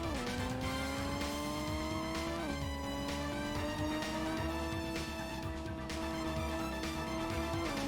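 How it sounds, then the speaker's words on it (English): Racing car engine in the Pro Racer video game, revving and rising in pitch through repeated gear shifts with tire squeal mixed in, loud and steady without talk. "Trying to accelerate and the car just doesn't want to move."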